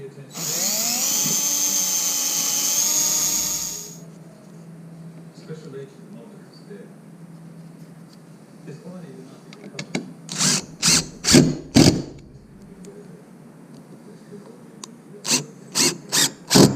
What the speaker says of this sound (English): Making sure that the countersinks were in place, and then screwing that window in.